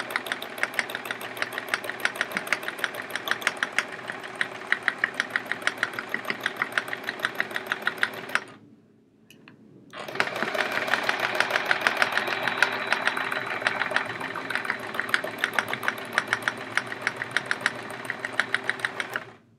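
A sewing machine runs through free-motion quilting on a chevron quilt, a steady rapid needle chatter that stops briefly partway, then resumes at a similar pace, loud and close with no talking.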